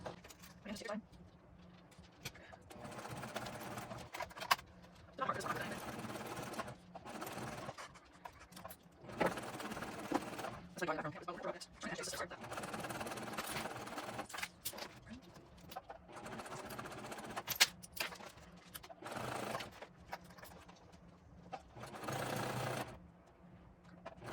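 A home sewing machine stitches backpack pieces in place, running in several bursts of steady whirring separated by short pauses, with someone speaking in between and over the stitching.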